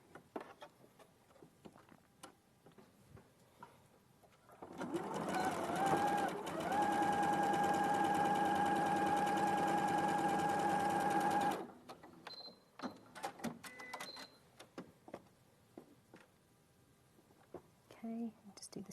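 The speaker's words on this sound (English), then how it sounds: "Okay, so I'll just quickly sew that in." Domestic sewing machine stitching a facing, a steady close whirring hum with a constant pitched tone for about seven seconds, bracketed by soft handling sounds and quiet speech.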